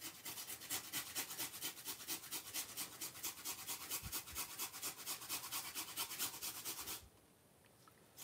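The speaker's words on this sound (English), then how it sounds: "So you want to grate a piece of ginger like this." A knob of fresh ginger rasped against a grater in steady, rapid back-and-forth strokes, close and crisp, for about seven seconds before stopping abruptly.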